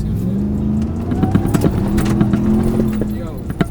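A stock RAM TRX pickup truck engine revving and pulling hard, a loud steady roar with rising harmonics and clicks, with a voice talking excitedly over it.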